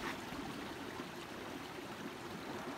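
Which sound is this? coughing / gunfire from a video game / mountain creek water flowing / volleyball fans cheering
mountain creek water flowing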